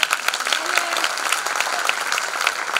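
An audience claps for a singer at a Turkish classical music concert, with dense, steady applause throughout and some crowd noise mixed in.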